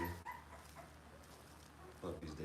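Seven 13-day-old puppies whimpering and yipping close by at feeding time, soft overlapping whines running through the clip with a louder burst near the end.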